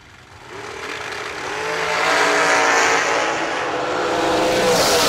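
A drag racing car accelerates hard at full throttle, its engine rising into a loud, sustained roar at close range that holds steady to the end.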